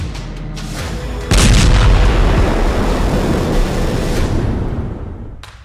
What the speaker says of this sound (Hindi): इजराइल ने दावा किया है कि उसकी सेना ने गाजा के सुरंग नेटवर्क पर बहुत ही भीषण हवाई हमला किया है।